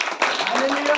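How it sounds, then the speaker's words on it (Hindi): A church congregation claps together during a Saturday prayer meeting, a dense, steady patter of many hands running throughout the moment, with a voice calling out over it. "ताली बजाकर परमेश्वर पिता से"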